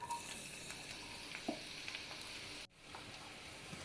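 Onions, garlic, green chillies, curry leaves and ginger sizzling in oil for chicken kurma, a steady, fairly quiet frying hiss with a few soft stirring taps, briefly cut off near the end.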